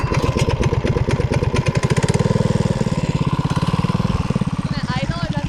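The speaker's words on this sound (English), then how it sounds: "Can it idle or does it even get? It idles." A minibike engine starts on a snowy day and settles into a choppy, rapid idle, loud and close, running steadily throughout with no clear talking.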